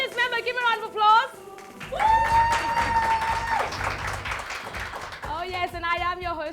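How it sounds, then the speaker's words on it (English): A studio audience on a talk show gives a round of applause, a burst of clapping mixed with music and cheering voices, set between stretches of a host's speech. "Audience member, give me a round of applause."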